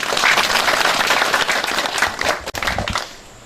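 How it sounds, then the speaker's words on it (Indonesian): Lively audience applause at a West Sumatra village gathering welcoming the provincial governor; dense clapping near and loud, tapering off toward the end with a brief gap. "Tepuk tangan di sini."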